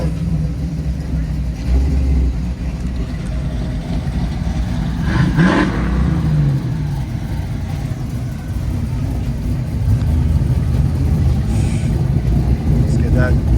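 A classic car drives in to an open house, its engine rumbling steadily with a passing rev as it nears, under continuous outdoor crowd chatter and people talking close by.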